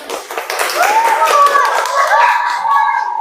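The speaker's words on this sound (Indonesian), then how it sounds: "Tepuk tangan palsu." Children in a classroom join in a rhythmic group clapping routine, a loud, close burst of patterned claps mixed with young voices chanting or calling out.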